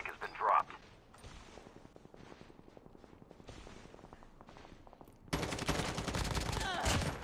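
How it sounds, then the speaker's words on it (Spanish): Bursts of rapid gunfire in Call of Duty: Mobile, with a distant rattle of shots followed by a loud, sustained volley near the end. "veo disparos"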